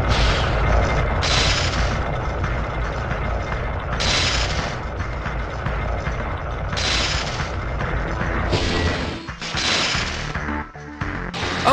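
Laser shots in the PS1 Spider-Man game, repeated sharp blasts landing every few seconds over a steady booming game soundtrack, loud and close.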